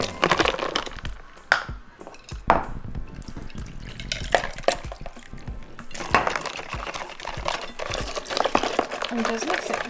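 Gelatin being mixed with cold water in a bowl: sloshing, swirling liquid with clinks and stirring splashes, close and continuous, with a person talking over it.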